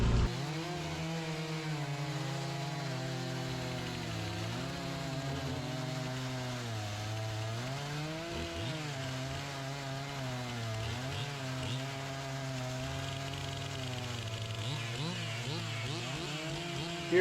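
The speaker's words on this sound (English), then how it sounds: "Here I am trying out the MS400 Pro Saw. As you can see, it has good power going through about a 12-inch oak log" A Stihl MS400 chainsaw cuts through a 12-inch oak log, its engine droning steadily and close, pitch dipping and rising as the chain bites and frees.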